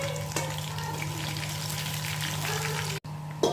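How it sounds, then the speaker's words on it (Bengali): Fish fry in hot oil in a home kitchen, giving a steady, dense sizzle and crackle that runs unbroken for several seconds at close range, with a brief dropout near the end. "এখন তেলটা গরম হলে মাছগুলো ভেজে নিচ্ছি।"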